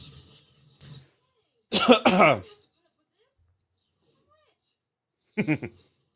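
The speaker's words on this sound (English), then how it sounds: "Sorry for the coughs." Several harsh coughs: a faint one early, a loud double cough in the middle, then another burst after a pause, in a quiet room.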